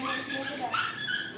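A dog whimpers and yips in a few short, high-pitched cries at moderate distance, over steady background noise with people talking nearby.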